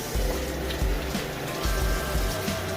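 Six cups of cold water pour steadily into a container while making fresh strawberry pie, a continuous splashing, trickling stream that stays fairly close and even throughout, with no talking.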